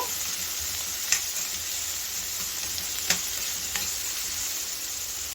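Onions fry in a pan with a constant close sizzle, broken by a few faint clinks of stirring.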